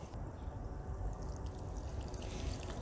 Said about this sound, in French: Je vais passer à l'arrosage.